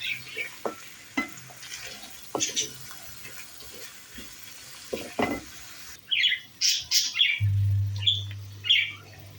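Minced meat filling for gözleme frying in a pan, a soft sizzle with scraping stir clicks, later joined by bird chirps and a low hum; no talk.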